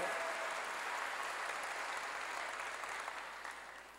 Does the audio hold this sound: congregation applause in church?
yes